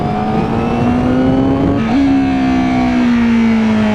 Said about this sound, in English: Oh, you can hear the split throttle bodies already.